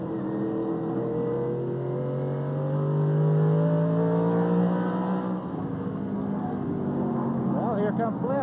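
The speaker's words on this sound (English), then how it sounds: "that telltale whine from Mike Bliss's truck is what? Well, that's a slick chain rear end that they use in these trucks" The rising whine of a slick chain rear end on a NASCAR Craftsman Truck comes through clearly over roaring engines, a sustained tone climbing and falling with speed.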